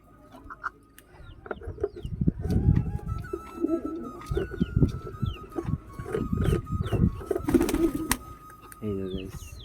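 Lotan pigeons coo in repeated low, throaty bursts at close range, mixed with other bird calls and background noise.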